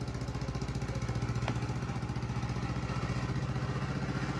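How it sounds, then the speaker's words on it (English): A small engine chugs close by with a fast, even, pulsing putter, staying steady and fairly loud throughout with a brief clatter near the middle, heard with no talk. "here's another small engine"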